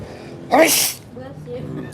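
A single loud, sharp sneeze bursts out close by, followed by quiet breathing and faint murmuring.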